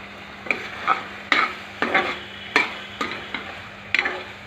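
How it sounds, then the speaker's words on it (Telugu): Prawns are stirred in a pot for prawn pulao, with about eight rhythmic scrapes of a spoon against the metal over a soft sizzle, close and clear with no talk. "రొయ్యల్ని వేసేసి చక్కగా ఇలా కలిపేసి మూత పెట్టేసి మగ్గనిద్దామండి."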